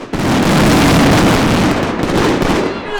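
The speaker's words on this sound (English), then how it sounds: "That was a lot of fireworks" Fireworks going off at the opening of a Christmas market at Lake Bled, Slovenia, close to the crowd, a dense, loud, continuous barrage of overlapping bangs and crackles that rumbles on for the whole stretch without letup.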